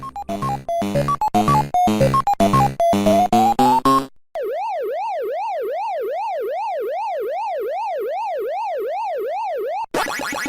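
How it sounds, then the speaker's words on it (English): Pac-Man arcade game sound effects: a quick run of bright chiming notes, then a long rising-and-falling warble like a siren, ending with a short burst. "these are all sound effects from Pac-Man."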